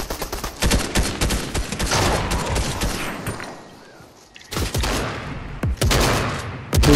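Rapid gunfire in the Fortnite video game: dense, loud bursts of shots that thin out briefly around the middle, then return as sharp, close cracks.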